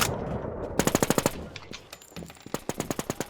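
Rapid automatic gunfire in a battle royale video game, two loud bursts of evenly spaced shots with a short pause between them, close and without talking.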